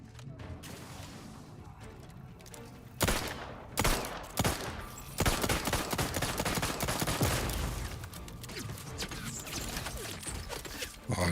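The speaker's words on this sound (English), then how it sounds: "Who's shooting me?" Video game gunfire in Outer Worlds 2, bursts of rapid shots and mechanical clatter starting after a quieter stretch, loud and dense through the latter part of the clip.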